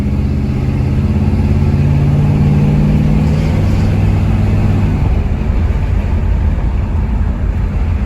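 A 350 V8 engine in a 1971 Chevrolet Chevelle idles with a deep, steady rumble, its low throb shifting slightly midway, running continuously and close without any voices.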